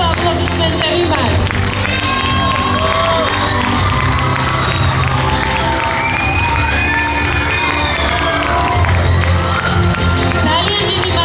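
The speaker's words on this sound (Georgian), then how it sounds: "თქვენი კიდევ ერთხელ აპლოდისმენტები მათ" A crowd at a Georgian folk dance concert in Zugdidi cheers, shouts and applauds a dance ensemble, a dense, sustained roar of voices with clapping mixed in throughout.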